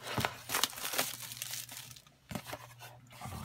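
Cellophane wrapping around a TP-Link gigabit PCI network adapter crinkles and crackles in close, uneven bursts, with brief pauses between handlings.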